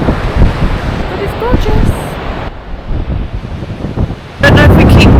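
Strong wind buffets the microphone beside a waterfall in Torres del Paine, Patagonia, a loud rushing roar with gusts throughout, while a person speaks briefly over it.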